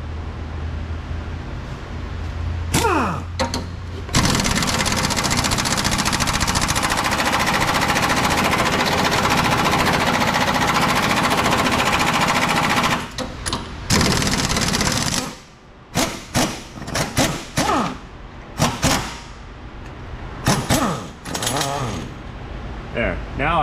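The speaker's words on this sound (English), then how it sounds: "Pneumatic impact." Pneumatic impact wrench hammering on a Nissan Frontier 4x4 suspension while the pitman arm is removed, a loud sustained rattling burst for about ten seconds, then short choppy bursts with pauses, some voice in between.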